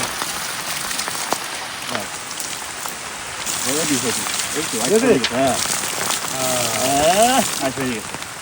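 Heavy rain pours steadily outdoors as fish are being washed, a dense constant hiss of drops on surfaces, with people talking over it in the second half.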